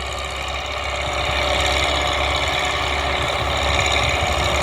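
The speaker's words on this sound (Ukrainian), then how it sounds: "Гарний вихлоп. Не такий, як в МТЗу." Exhaust of a YuMZ-6 tractor engine during field cultivation, a steady, loud diesel rumble that builds slightly after the first second and holds an even, throbbing drone with no talk.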